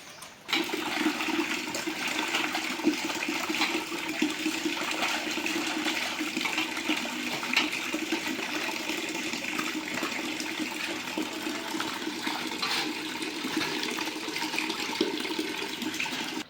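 Water pours steadily over freshly cut tilapia pieces being rinsed clean, a continuous rushing splash that stays even and close for the whole stretch, with no speech.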